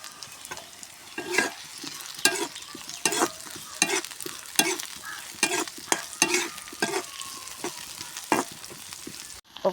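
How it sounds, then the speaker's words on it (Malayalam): Onions frying in a pan for chammanthi while being stirred until brown: repeated sharp scraping stir strokes at an uneven rhythm over a soft, continuous sizzle, close up and with no voices. "നമ്മളുടെ ഉള്ളി ഒരു ബ്രൗൺ കളറാവുന്നത് വരെ നമുക്ക് ഇത് ഇളക്കി കൊടുക്കട്ടോ"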